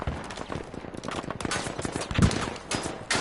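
Gunfire in the Battlefield V video game comes as dense, rapid bursts and single shots from several directions, with a heavier blast near the middle.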